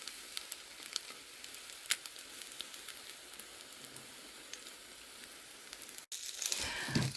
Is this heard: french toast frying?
yes